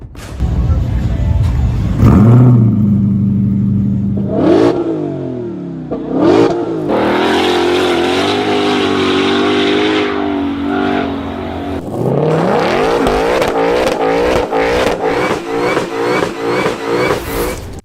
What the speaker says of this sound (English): the 2023 Dodge Charger SRT Hellcat Red-Eye Widebody Jailbreak, 203 miles an hour